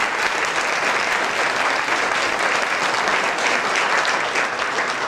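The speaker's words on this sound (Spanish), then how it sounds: "Fuerte el aplauso, por favor." An audience at a Guatemalan talent show applauds loudly and steadily. The dense, continuous clapping from a large crowd lasts the whole stretch, with no voices rising above it.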